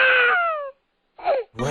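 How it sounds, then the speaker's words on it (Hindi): Small child crying in a horror story, heard as a drawn-out wavering wail with harmonic overtones, then a pause and shorter sobbing cries, close and fairly loud with no talk. "उस अलमारी के अंदर से एक छोटे बच्चे की रोने की आवाज़ आई।"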